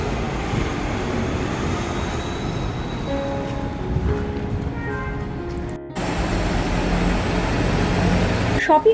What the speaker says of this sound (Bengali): এই যে বাসটা সাইড দিয়ে চলে যাচ্ছে